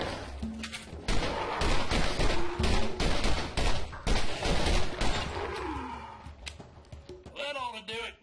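Pistol gunfire in the video game Borderlands, heard as a burst of loud, sharp shots packed closely in the first seconds, then scattered blasts mixed with game effects and a voice talking over the action.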